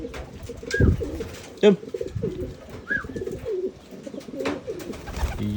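Pigeons coo softly in a few short rounds during free flight, with wing flaps and handling noises, under a man's intermittent speech.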